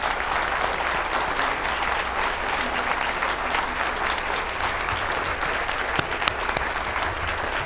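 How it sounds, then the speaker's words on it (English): Attendees at a district town hall meeting give a sustained, loud round of applause, a thick wash of clapping hands with a few sharper claps standing out near the end. "Let's give them all another round of applause"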